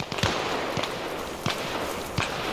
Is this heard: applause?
no